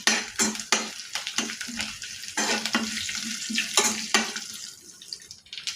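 Urad dal, dried red chillies, curry leaves, cumin and garlic crackle and sizzle in hot oil for a tempering, with repeated scraping stirs and clinks of a spoon against the pan, steady and close.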